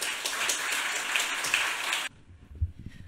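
An audience at a literary reading event applauds four writers with steady, dense clapping that fills the room for about two seconds, then cuts off abruptly to near quiet.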